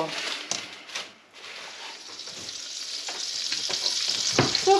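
Bacon and onions fry in a pan as the base for beef goulash. A close, steady sizzle carries through, with brief clatters from stirring.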